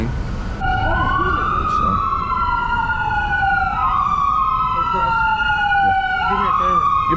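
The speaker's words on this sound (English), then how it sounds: "Look, we got an ambulance." An ambulance siren wails on a busy street on East Hastings in Vancouver, sweeping up and down in steady cycles close by over traffic rumble, with a voice talking briefly at the start.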